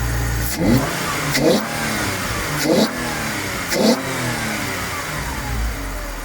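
A Ford Mondeo ST220 engine fitted with a K&N air filter idles steadily and is revved four times in a regular rhythm, each rev a short rising roar before dropping back.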